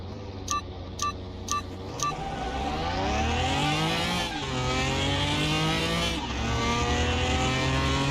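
A BMW Pro Car races in Car Mechanic Simulator 2021. Four short countdown beeps come first, then the engine revs up hard through rising gear pulls with brief shift dips, loud and close.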